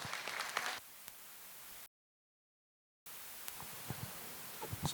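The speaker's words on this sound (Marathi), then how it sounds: "एकदा जोरदार टाळ्या" Applause from an audience at a women's bhajan singing competition, a dense burst of clapping that fades, then a stretch of silence before more scattered crowd noise and claps return.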